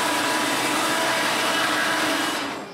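A band saw rips through wood boards with a steady, dense whirring hiss that holds at close range before starting to wind down at the end.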